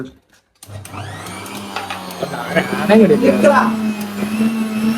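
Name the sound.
blender mixing avocado shake with sugar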